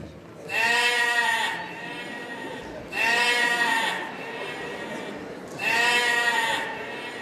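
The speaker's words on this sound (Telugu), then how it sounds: "మొదటి రోజు గొర్రెమంతు వచ్చింది." A sheep bleats three times at evenly spaced intervals, loud, wavering cries close by with quieter background between them.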